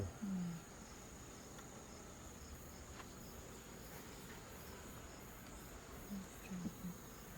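Honeybees swarm around a beehive on a hot summer day, with many bees out in front of the hive. A faint, steady insect hum holds throughout, with a few soft low bumps near the start and end.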